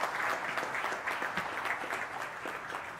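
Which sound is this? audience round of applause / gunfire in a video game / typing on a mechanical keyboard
audience round of applause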